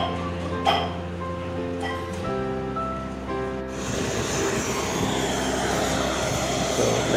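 Steady roar of an airliner's engines at Gulbarga (Kalaburagi) Airport, India, with layered droning hum, rising into a broad rushing noise partway through, loud and continuous.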